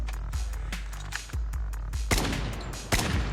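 Sharp, loud SKS rifle shots from the mobile shooter game Call of Duty Mobile ring out one at a time in an irregular semi-automatic rhythm, each crack followed by a short decay.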